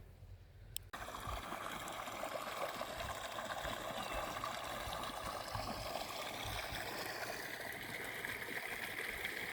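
Irrigation water pours into a wheat field on a farm, a steady rushing flow that starts abruptly after a brief quiet moment and then runs on evenly throughout.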